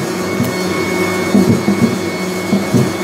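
An electric mixer runs steadily while batter for an apple cake is being prepared. Its loud, even motor whine and hum are heard alone, with a few slight bumps in the sound.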